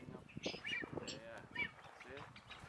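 Nazca boobies in the Galapagos calling with high, thin whistling notes from a female, mixed with honking squawks, fairly close, over a busy outdoor background where frigate birds are present.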